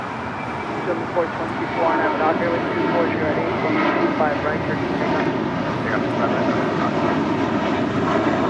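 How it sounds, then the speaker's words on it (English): An American Airlines Airbus A321 jet at Los Angeles International Airport produces a steady, broad engine roar that swells slightly and holds loud throughout, with distant traffic hum beneath. "Next arrival, next departure, American Airlines A321."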